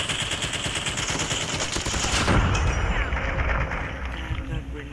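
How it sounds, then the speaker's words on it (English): Gunfire and a heavy blast in a Call of Duty match, with a broad burst around the middle that thumps low and fades into steady rattling battle noise; a player talks over it. "Damn, that grenade hit me hard."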